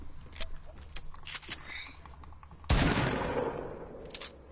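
Fortnite gunfire at Tilted Towers: one sudden, loud shot or blast, close by, that rings off slowly over a few seconds, after quieter game noise and faint voices.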